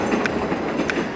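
A train rolls by in the mobile game TrainStation 2, a loud, steady rumble with faint rhythmic clicks of wheels over rail joints, and no talking.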